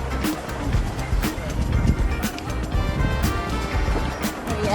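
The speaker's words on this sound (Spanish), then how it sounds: "Y desde acá escuchas el mar" Sea waves wash onto the beach at João Fernandes in Búzios, a steady broadband rush with faint surges under a light wind, continuous and moderately near.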